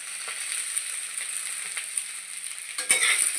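Vegetables and ground spices with fennel and bay leaf fry in a pan for a Bengali katla fish curry, giving a steady close hiss and sizzle with faint stirring scrapes and a brief louder clatter near the end.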